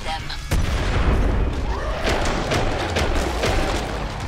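A grenade goes off in Killing Floor 2, a loud booming blast followed by sustained rumbling and crackling debris with scattered shots, close and heavy throughout.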